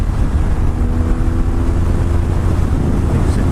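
Steady, loud wind roar buffeting the rider on a BMW R1200R motorcycle, mixed with low engine drone, continuous throughout with no talk.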